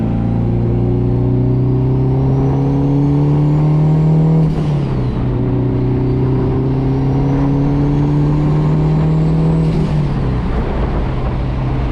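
Loud, steady turbocharged Honda S2000 engine droning under barely a pound of boost, its pitch climbing twice and dropping sharply each time, with no talking.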